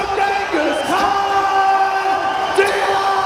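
A crowd at a live MMA event cheers and whoops for a fighter being introduced, a steady roar under a drawn-out announcer's voice.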